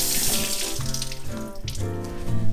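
Fruit being washed under a running tap at a sink, a steady close rush of water with shifting splashes as the fruit moves through the stream, heard alone.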